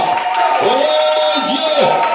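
A church congregation cheering and acclaiming, a loud and close crowd of shouting and whooping voices with some sustained cries rising above the din.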